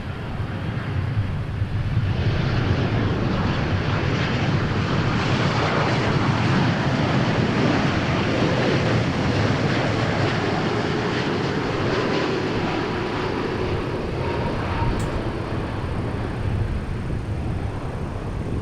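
Airplanes at DFW Airport roar loudly and steadily for the whole stretch, a continuous broadband jet engine rush filling the air as aircraft pass close by.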